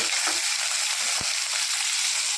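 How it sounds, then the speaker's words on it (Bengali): Chopped tomato hits hot oil with cumin in a pan and is stirred, producing a loud, dense, continuous sizzle up close with a soft stirring knock midway and no talking. "এর মধ্যে আমি কেটে রাখা একটা টমেটো দিলাম, দিয়ে এদিকে নাড়াচাড়া করে"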